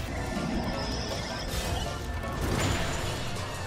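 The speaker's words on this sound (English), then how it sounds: "It smashed a pillar before it can get me." A stone pillar being smashed in Breath of the Wild, a loud crashing din of breaking debris that swells twice over a dense, continuous background of game noise.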